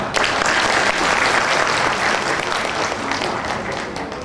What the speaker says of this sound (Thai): ยินดีขอปรบมือให้กับท่านนายกเปรมดี และก็ตัวอย่างที่ดีจากพิศนุโลกครับ